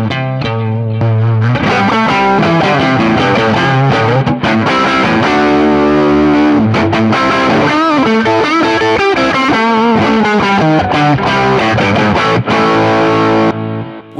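Electric guitar played through a Catalinbread Tribute parametric overdrive pedal into a small Fender Deluxe amp, pushed toward a Marshall-style crunch: loud, thick distorted chords and riffs ringing continuously, close and alone, with no talking.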